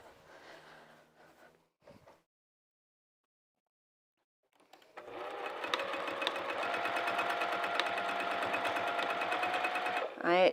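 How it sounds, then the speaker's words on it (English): A sewing machine stitches straight across a boxed fabric corner, a steady, close mechanical whir running several seconds after brief talk and a pause. "I'm going to sew right on those black lines."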